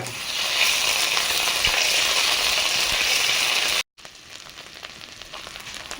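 Ginger paste and turmeric sizzle in a hot pan, a loud steady hiss that cuts off abruptly, then returns quieter with faint crackling.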